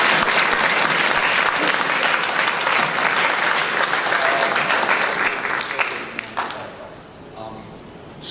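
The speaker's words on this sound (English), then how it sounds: "Shout out round of applause." A convention audience at a panel during Equestria LA 2013 breaks into loud, sustained applause that fades out near the end, with voices mixed in.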